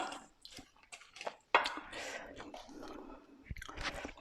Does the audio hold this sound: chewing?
yes